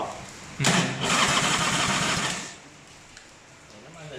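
An S&S Evo 80 engine on a BCM motorcycle build fires up with a loud burst, then runs at a rough, steady idle for about two seconds before settling down, heard close up.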